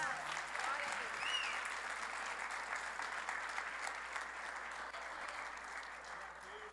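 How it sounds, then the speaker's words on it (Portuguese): Steady church congregation applause fills the space, a dense sustained wash of clapping hands at moderate volume, holding evenly from start to finish with no one speaking over it. "Aplauda o Senhor Jesus."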